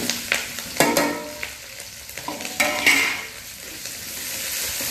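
Garlic and onions with green chilies fry in a pan, a steady sizzle broken by several sharp stirring scrapes near the start and again midway, close up and without talk.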